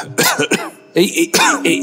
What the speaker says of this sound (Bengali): এই বাবা, তুমি তো কাশছো।